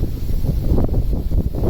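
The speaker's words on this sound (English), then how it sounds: "it's a bit windy" Wind blows across a carp fishing pond, a low, gusty rumble buffeting the microphone continuously at close range.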